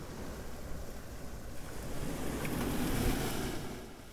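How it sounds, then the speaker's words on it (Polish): Rough surf rolls in on a beach near Hua Hin, Thailand, a steady wash of breaking waves with wind noise, swelling louder toward the middle and easing off at the end. "Dzisiaj morze jest wzburzone, o pływaniu nie ma mowy"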